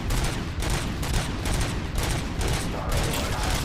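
Sustained gunfire fills the game RoboCop: Rogue City, dense rapid bursts of shots overlapping continuously, loud and close throughout.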